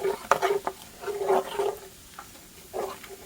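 A spoon stirring biscuit gravy in a pan, soft intermittent scraping and gentle bubbling strokes, fairly quiet and close, with no talking.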